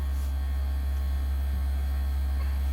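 A household air conditioner installed inside a van runs as a steady, loud, unbroken low hum and drone that fills the whole stretch, with no talking.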